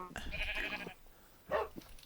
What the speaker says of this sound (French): Eh, l'autre mouton, voilà.